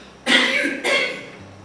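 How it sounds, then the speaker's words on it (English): A man gives two close, loud coughs about half a second apart, then silence. "I'm sorry about this cough."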